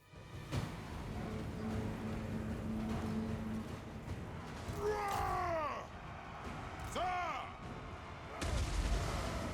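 Artillery fire in the Total War Warhammer 3 video game, several booming shots and whistling projectiles over battle noise, with a heavy thump at the end.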